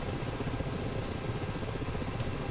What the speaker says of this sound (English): Bring the helicopter around.